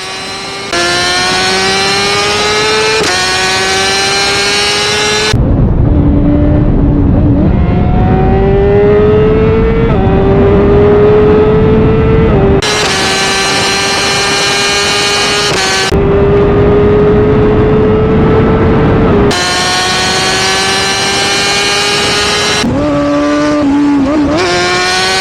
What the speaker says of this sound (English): listen to the beautiful sounds of my exhaust pipe